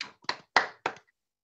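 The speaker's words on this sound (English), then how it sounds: "Please join us in congratulating Mr. Medina on his exceptional work with a virtual round of applause." Four sharp, separate hand claps from a single person close to the microphone, evenly spaced and quickly fading, given as a small virtual round of applause for an award at an online members' meeting.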